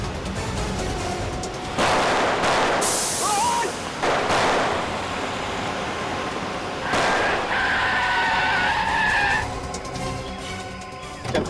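A car engine roars as the vehicle is driven at two people, with loud bursts of tyre skidding and screeching in several separate waves, punctuated by abrupt impacts and near silence between.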